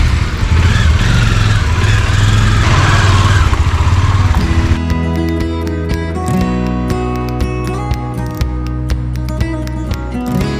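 A motorcycle engine drones loudly with a steady rumble and wind roar while riding on a road trip, before tonal, ringing sounds take over midway.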